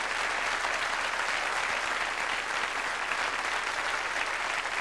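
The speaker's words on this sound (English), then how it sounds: "My Pamela down there, Pam St. Clemens, give her a nice round of applause." Steady, dense applause from a live comedy show audience, loud and continuous throughout with no speech over it.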